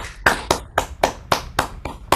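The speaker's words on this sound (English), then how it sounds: "Yes, first applause." Applause after a physics talk: about nine sharp, evenly spaced claps in a quick steady rhythm, close and fairly loud, from what sounds like a single pair of hands or a small group.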